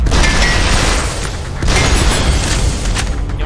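A loud, rumbling explosion in the top-down shooter Synthetik, with dense low boom and crackling debris filling the whole stretch without a break, then swelling again partway through.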